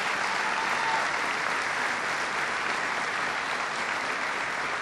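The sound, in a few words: troops applauding a member of Congress at a speech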